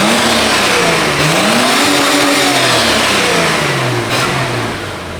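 A stock-exhaust Ford AU Falcon engine revs up and down in long, loud sweeps close by, the pitch rising and falling over several seconds with no voices.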